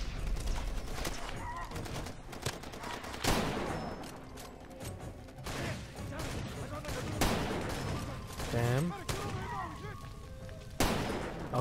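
Gunfire in the video game Far Cry 2, repeated loud bursts and sharp shots scattered through a dense battle mix, with voices shouting over the fighting.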